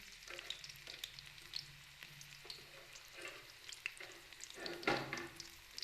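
Low, steady sizzling of cumin and onion frying in hot oil, with scattered crackles and pops and a few soft stirring scrapes, close by and quiet.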